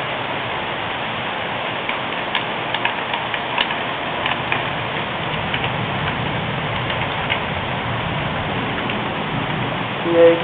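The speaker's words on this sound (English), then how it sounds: "That is just pouring." Rain falls during a storm at Myrtle Beach as a steady, even hiss with scattered faint ticks of drops, continuous throughout and not overlapped by talk.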